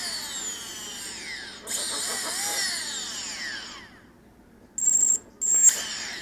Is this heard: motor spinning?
yes